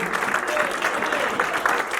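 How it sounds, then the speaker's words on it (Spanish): Congregation applause at an evangelical campaign service, a steady wash of clapping from a crowd that holds throughout without a break, with faint voices mixed in. "Denle fuerte el aplauso."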